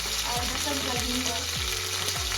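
Green and red chillies, garlic paste, curry leaves and asafoetida fry in hot oil for Maharashtrian dahi kadhi, giving a steady close sizzle with several sweeping spoon strokes scraping the pan at regular intervals.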